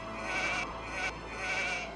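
Sheep bleat in the video game Age of Empires 2, three drawn-out calls spaced about half a second apart, moderately loud and clear over a soft game background.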